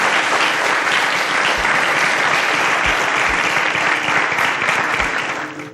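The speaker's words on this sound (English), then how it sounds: "A round of applause for Chidinma." Sustained applause from a TV show studio audience, dense and steady clapping filling the whole stretch, fading slightly at the end.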